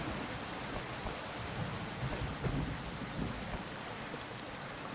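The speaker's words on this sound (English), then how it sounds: "it's foggy, it's raining" Steady rain falls in the survival video game Project Castaway, a dense, even wash of hiss filling the scene with faint low rumbles beneath, no voices.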